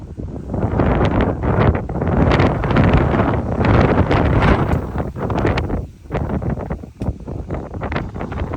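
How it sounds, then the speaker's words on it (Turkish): Strong wind buffets the microphone in loud, continuous gusts, roaring and rumbling for several seconds with brief lulls. "Böyle ya yine aşırı bir rüzgar esiyor."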